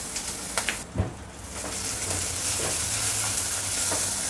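Crushed chili hitting hot oil already holding cumin seeds and curry leaves: a dense sizzling hiss with a few sharp spits and pops early on, then a continuous steady frying sizzle.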